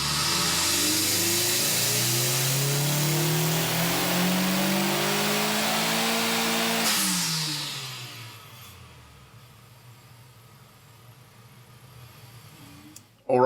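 A Honda Civic FK8 with an Eventuri carbon intake revs hard on a dyno, its engine note climbing loudly for several seconds before dropping away to a low idle and near quiet.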